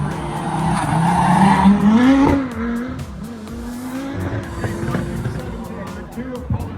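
A drag racing car from Santa Pod Raceway at the Silverstone Festival, heard as a loud engine roar with tire squeal and shifting pitch under a commentator's voice over the public address.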